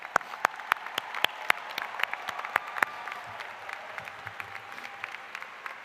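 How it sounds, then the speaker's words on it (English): Graduation ceremony audience applauds graduating students, with sparse, distinct hand claps rising from a faint background at moderate distance, thinning out toward the end. "join me in another round of applause for all of these exceptional students"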